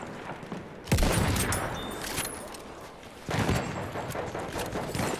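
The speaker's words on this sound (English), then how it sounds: "Enemy machine gun sighted." Enemy machine gun fire in Battlefield 1 multiplayer, heavy bursts starting abruptly and rattling on with a short dip before resuming, fairly loud and near.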